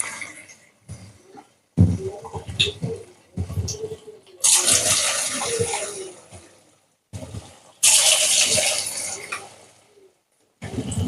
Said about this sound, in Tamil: இப்போ இதை நம்ம எண்ணெயில் போட்டு பொரிச்சு எடுத்துக்கலாம்.